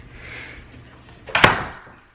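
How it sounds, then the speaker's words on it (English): A door slams once, a sharp loud bang that rings out briefly in an indoor home, after a quiet stretch of room noise. "Don't slam doors."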